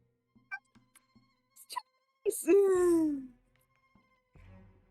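During a tabletop game session, one loud sneeze bursts out with a voiced, falling tail, set between soft scattered clicks and small taps in an otherwise quiet room.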